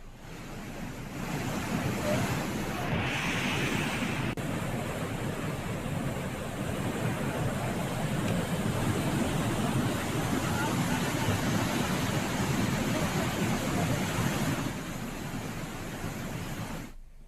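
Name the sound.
swollen Ganga river rushing at Gangotri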